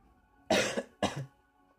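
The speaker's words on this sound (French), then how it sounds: "Je suis un peu désolé si je tousse dans les vidéos parce que je suis malade." A sick man coughs twice in quick succession, close and fairly loud, each cough a short harsh burst, then quiet.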